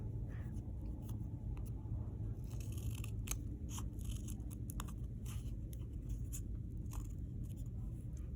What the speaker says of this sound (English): I'm gonna cut all the papers together